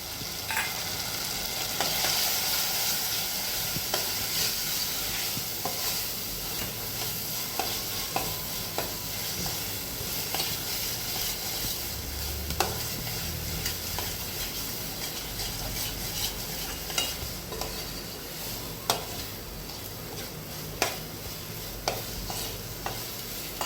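Masala powder and turmeric frying in oil for a fresh cashew curry, a continuous close sizzle with soft intermittent stirring scrapes against the pan.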